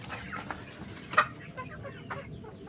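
Chickens on a farm cluck softly in the background, with one brief, sharper squawk standing out against low ambient noise.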